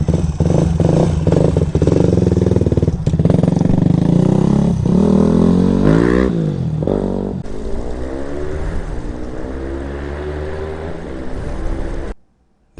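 A 2008 Yamaha WR250R dual-sport motorcycle engine drones loudly and steadily while ridden, with rising revs and gear changes as it accelerates, then cuts off abruptly near the end.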